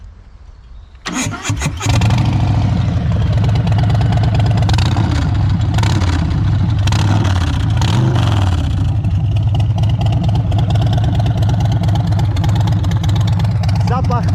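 Harley-Davidson Street Bob motorcycle with a 107 cubic-inch engine fires up, then settles into a loud, steady, deep exhaust rumble with uneven throttle pulses, close by and continuous.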